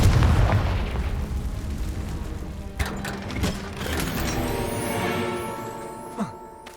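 A Confringo fire spell exploding in Hogwarts Legacy, a loud booming blast at the start that trails off into rumbling game effects, followed by a few smaller pops and whooshes.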